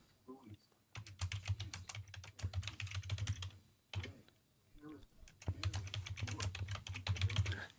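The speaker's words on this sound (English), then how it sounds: "It's really strange to type on different keyboards." Someone types on a computer keyboard while sending reports during live severe-weather coverage. Fast, uneven bursts of key clicks with a short pause, fairly close but quiet, and faint speech in the background.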